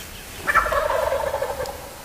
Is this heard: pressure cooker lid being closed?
no